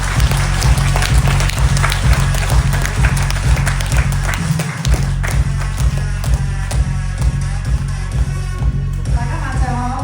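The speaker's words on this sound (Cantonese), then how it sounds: "請我哋用熱烈嘅掌聲邀請我哋嘅三星領導人" A crowd at a stage event applauds to welcome a speaker, with brisk scattered clapping layered over loud, pulsing background music with a heavy beat.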